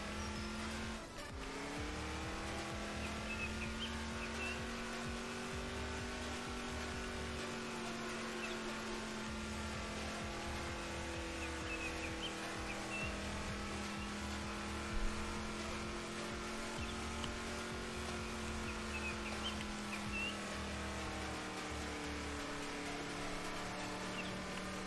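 A truck engine in the video game Gold Hunter runs steadily throughout, a sustained droning hum with shifting pitch as it labours, heard alone with no talk.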